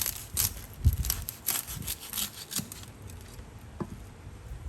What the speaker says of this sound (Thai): จากนั้นเราก็จะมาหั่นค่ะ